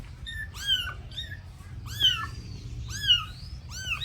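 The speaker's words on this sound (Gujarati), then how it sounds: "જો બેઠી મીંદડી સામી" Cats meow repeatedly in a village yard, five or six short rising calls spaced through the clip, close and clear over a low rumbling background; no speech.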